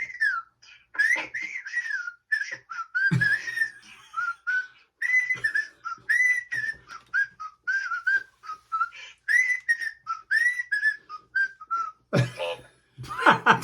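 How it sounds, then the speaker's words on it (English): A person whistles a melodic tune in short repeated phrases with brief pauses, close and clear, with a couple of bumps and rustles in between. "I don't whistle that well, but I'll give it a whirl"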